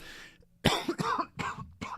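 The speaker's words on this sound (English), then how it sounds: "that cough snuck up on me" A burst of harsh, close coughing, four or five rough hacks in quick succession.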